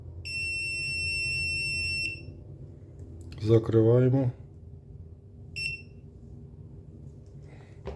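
WinAPEX 268B current clamp meter testing an N-channel MOSFET on a circuit board: a sustained electronic beep for about two seconds, someone speaking briefly, then a second short beep.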